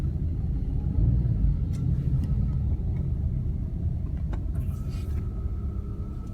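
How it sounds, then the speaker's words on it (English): Steady low rumble of heavy road traffic at LAX airport, with car engines droning nearby and a brief higher tone late on, continuous and fairly loud. "There's just so much traffic here."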